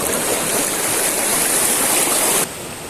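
Strong waves surging and splashing close by at a seaside fishing spot, a loud continuous broadband wash that drops abruptly in level near the end.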